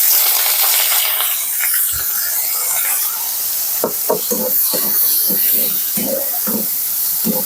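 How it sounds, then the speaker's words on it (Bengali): Onion and green chili frying in mustard oil with dried red chili, a steady loud sizzle and hiss from the pan with a run of short stirring scrapes and clicks in the second half. "একটু ভেজে নিয়ে পেঁয়াজটাকে"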